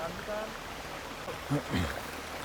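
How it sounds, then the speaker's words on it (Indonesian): A mountain river stream flows with a steady broadband rush of water, heard near and fairly loud, with brief voices surfacing partway through. "Ya kita udah nyampe di sungai."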